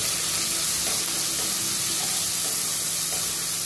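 Chopped tomato dropped onto sizzling garlic in a frying pan for drumstick-leaf dal kuzhambu gives a loud, steady, close hiss of frying with faint stirring scrapes throughout.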